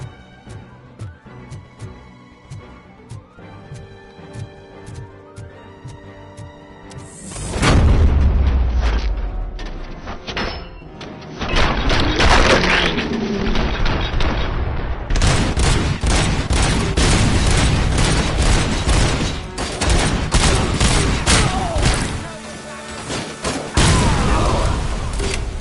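Gunfire from a weapon in a Robocop video game, heavy bursts of shots and booming blasts erupting after a quieter stretch, loud and dense with a brief lull before a second sustained barrage.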